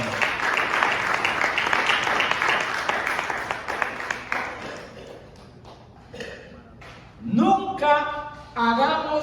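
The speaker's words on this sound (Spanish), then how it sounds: "Denle un aplauso a Jesús," An audience in a church setting claps in broad applause for the first few seconds, then the clapping thins out and fades while other sounds and voices take over.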